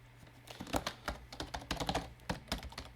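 Quick, light key presses on a computer keyboard as a password is typed, about a dozen soft clicks in an uneven run, close and quiet in a still room.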